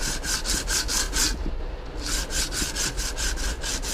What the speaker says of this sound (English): just got a bit of a block here with some sandpaper on it